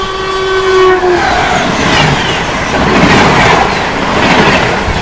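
The North East Express passes at speed, its loud horn sounding at the start over a steady, close roar of wheels clattering on the rails.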